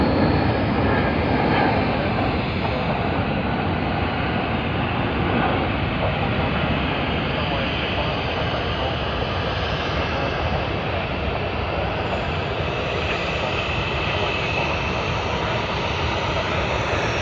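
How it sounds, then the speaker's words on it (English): An Airbus A380 at Sydney Airport, loud, steady jet engine roar that holds unbroken from start to finish, with no clear changes in pitch. "Two A380s, Singapore Airlines and Emirates."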